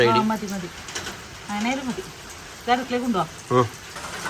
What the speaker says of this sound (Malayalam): മഴ ഇങ്ങനെ പെയ്തുകൊണ്ടിരിക്കുന്നുണ്ട്